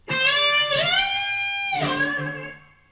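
A sustained electric guitar note bends upward in pitch, holds, then bends again before fading out, bright and distorted with rich overtones.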